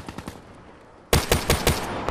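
Gunfire in the Black Ops 3 video game: a few soft muffled shots first, then a loud close burst of rapid shots in an even, fast rhythm.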